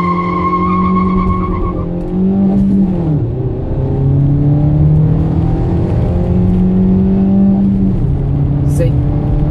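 A 2015 Toyota Etios XLS accelerating hard, its engine note climbing through gear changes with revving and a brief tire squeal, loud and close.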